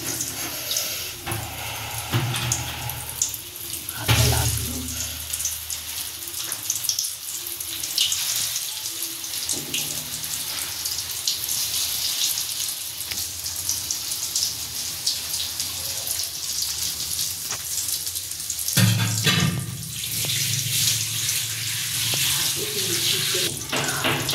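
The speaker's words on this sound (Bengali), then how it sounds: "তেল গরম হয়ে গেছে, এক এক করে মাছের পিসগুলো দিয়ে দিচ্ছি ভাজার জন্যে।" Pieces of katla fish fingers sizzle in hot oil in a wok, a continuous broad hiss and crackle that swells in louder bursts as more pieces go in, steady and close throughout.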